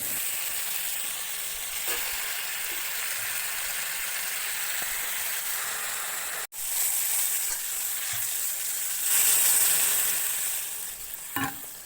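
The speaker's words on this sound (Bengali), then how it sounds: "আদা কাঁচামরিচ বাটা অল্প জিরার গুঁড়া অ্যাড করে ওকে দিয়ে ভালোভাবে ভেজে নেব।" Ginger and green chilli paste with a little cumin powder frying in oil for a pumpkin-shoot vegetable dish, a steady loud sizzle with occasional stirring scrapes, near and continuous.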